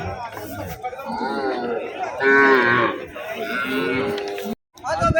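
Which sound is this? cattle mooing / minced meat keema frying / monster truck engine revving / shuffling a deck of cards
cattle mooing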